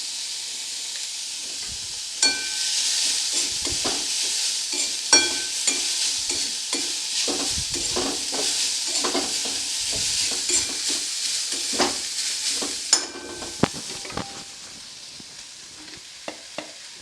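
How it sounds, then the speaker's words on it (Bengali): Grated potato for a spiced potato sandwich filling fries in a pan with a loud, continuous sizzle and hiss, while a utensil stirs it in repeated scraping strokes throughout. "এবার দিয়ে দেব এর মধ্যে গ্রেট করে রাখা আলু"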